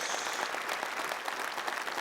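Studio audience applause on a Tamil quiz game show, a dense, even clatter of many hands clapping close and loud throughout, without voices.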